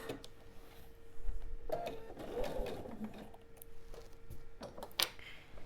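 A sewing machine stitches quilt pieces onto a leader ender, running in a steady mechanical whir with brief clicks and pauses, fairly quiet and with no voices.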